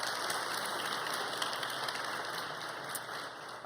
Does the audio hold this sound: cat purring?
no